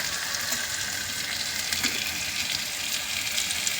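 Fennel seeds crackle in hot oil for brinjal ghee rice, a loud, dense, continuous sizzle heard up close with no voices.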